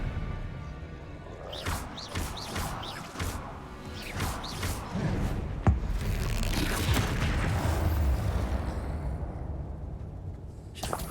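Spell blasts and explosions from the video game Hogwarts Legacy: a dense run of sharp whooshes, cracks and booming impacts layered over rumbling game effects, loud and continuous for several seconds before easing off.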